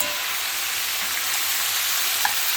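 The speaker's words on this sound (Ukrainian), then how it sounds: "Сковорідочка скворчить" Steady, dense sizzling of food frying in a pan, continuous and fairly loud with no voices.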